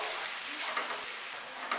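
Green chillies stir-frying in a hot pan for Kolkata-style street egg chowmein: a steady, close, bright sizzle with faint stirring scrapes, no voices.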